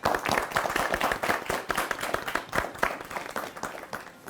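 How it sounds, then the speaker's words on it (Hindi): A studio audience on a cricket sports talk show claps, giving a brisk, fairly close run of distinct hand claps with an uneven, lively rhythm that carries on steadily. "तो सबसे पहले तो आप लोग अपने लिए तालियां बजाएं।"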